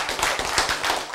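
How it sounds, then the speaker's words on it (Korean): An audience at a church lecture claps together in a single burst, a dense, close flurry of many hands lasting about a second. "박수 한번 치고 지나가요."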